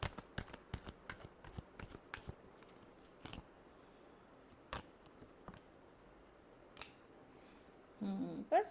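Tarot cards are shuffled by hand in a string of quick riffling flicks, close and fairly quiet, then sparser taps and a soft voice near the end.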